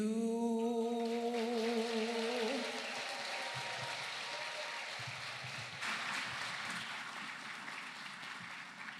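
At a community college graduation ceremony, a fading sung note gives way to a crowd's sustained applause, a soft, distant wash of clapping that carries on steadily to the end.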